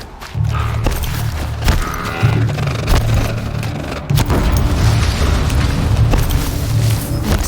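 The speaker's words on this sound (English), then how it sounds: "An explosion." A video game explosion in Horizon Zero Dawn booms with deep, rumbling low thuds, followed by a sustained roar mixed with mechanical clanks and crackling debris.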